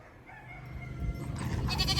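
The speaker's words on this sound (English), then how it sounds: "I gotta feed the goats before they divorce me" Goats bleating at feeding time on a hot day on a farm, a few moderately close wavering calls rising in the second half over low background rumble, with no talk.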